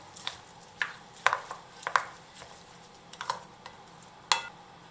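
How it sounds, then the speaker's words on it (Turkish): Bulgur being stirred with hot water in a bowl, a series of light, irregular scraping clicks from the spoon, close and fairly quiet, with short pauses between strokes. "bulgurun üstüne 2 su bardağı sıcak suyu ilave ediyoruz. Ve güzelce bir karıştırıyorum."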